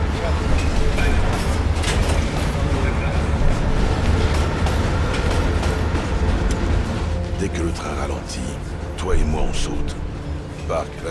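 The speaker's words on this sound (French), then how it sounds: "le train ralenti, c'est à nous de jouer" A train rolls steadily along its rails in Call of Duty Black Ops Cold War gameplay, a continuous loud rumble with clanks while voices talk over it.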